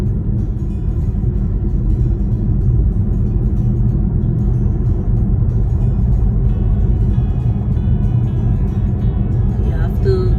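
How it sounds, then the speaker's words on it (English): Car driving through London's Rotherhithe Tunnel at a 30 mph limit, a steady, loud, enclosed low road rumble that holds evenly throughout with no breaks. "Now we're going under the tunnel."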